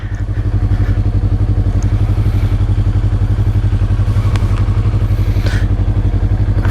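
A 2020 Yamaha YZF-R3 motorcycle engine runs steadily on a ride, its loud, even pulsing drone close and continuous, with occasional light clatter and thumps over the top.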